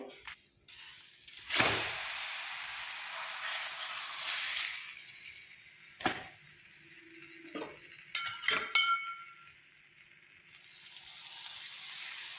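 Dhapate flatbread frying on a hot griddle with oil, sizzling rising and fading, with scraping and metal clinks between bursts of hissing, no voices.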